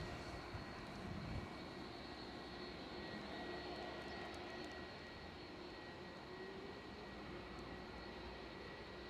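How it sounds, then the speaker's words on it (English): An Airbus A321 inbound from Frankfurt approaches to land at Edinburgh Airport, a steady broad jet roar heard faintly from a distance over outdoor wind. "We have another aircraft about to land."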